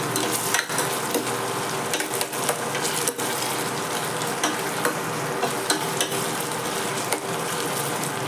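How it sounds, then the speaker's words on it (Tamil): Mixed vegetables, including taro root, cluster beans, drumsticks, beans and capsicum, frying in plenty of oil, a steady dense sizzle with occasional stirring clicks and scrapes throughout. "மேக்ஸிமம் ஆயிலே ஃப்ரை பண்ணி எடுத்து முடிப்போம்"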